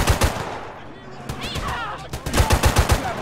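Rapid bursts of automatic gunfire in GTA San Andreas during countryside gang fighting, loud and close, with shouting voices and whizzing sounds between the volleys.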